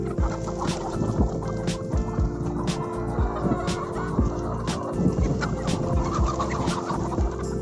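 Desi chickens on a village poultry farm cluck and chatter continuously, with many overlapping calls and scattered sharp squawks over a steady background hum, no voices.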